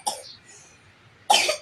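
A child coughs twice, a sharp close cough followed after a short quiet pause by a second harsher one, with no talking in between.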